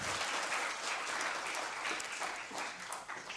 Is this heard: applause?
yes